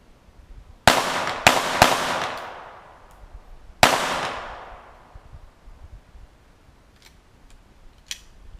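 .22 rifle shots fired into a radiator outdoors, three quick sharp cracks followed by a fourth after a pause, each decaying with a brief echo, then faint ticks and clicks.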